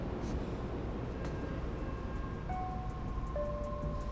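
Steady rumble of a train in motion, loud and continuous, with faint high tones and a brief squeal near the end.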